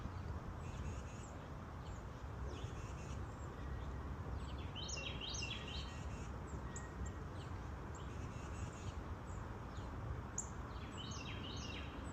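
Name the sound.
bird singing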